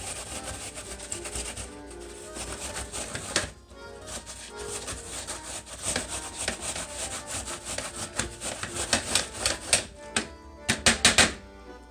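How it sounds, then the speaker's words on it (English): Apple being grated by hand for coleslaw, a continuous close rasping and scraping with rhythmic strokes that grow choppier and more emphatic toward the end. "I just finished grating the apple."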